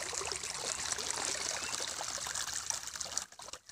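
Water trickles and splashes steadily from an irrigation pipe on a farm field, a continuous close wash that cuts off abruptly near the end as the pump motor is switched off, leaving brief faint dribbles.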